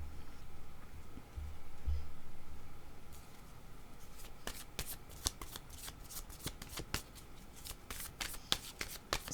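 Playing cards are shuffled in soft, continuous riffles during a card reading, then a series of sharp, crisp snaps and slaps as cards are drawn and laid down, close and clear with no talking.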